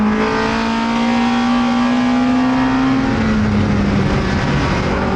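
A race car at speed on the Algarve circuit in Portugal, its engine droning loud and close from the cockpit in one sustained, steady note that slowly rises in pitch, with no talking over it.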